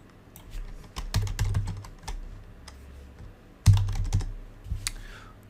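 Typing on a computer keyboard while coding a game enemy's health bar: quiet, irregular clusters of key clicks with short pauses between bursts.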